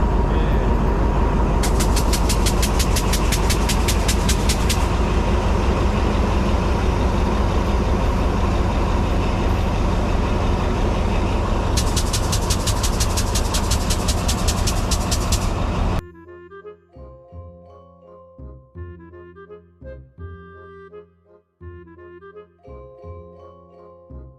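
A loud, continuous rumble from an Alstom diesel locomotive hauling a long oil tanker train in Chonburi, Thailand, with heavy engine drone and bursts of rapid clattering, cut off abruptly by quieter tonal sounds near the end.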